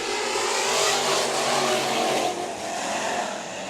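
Race cars roar through an eight-lap heat race at Bakersfield Speedway, a dense sustained engine drone with revving swells from a pack of cars, loud and continuous, fading slightly toward the end, with no talking.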